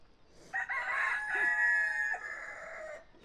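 A rooster crows loudly and close by at an evening farmyard where goats are kept, one long drawn-out call with a rising start and a sustained, wavering middle that fades toward the end, heard alone.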